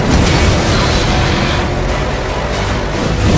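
Loud, continuous rumbling explosions and booming blasts from the stunt driving video game Stuntman: Ignition, merging with roaring engine noise into a dense, heavy wall of sound.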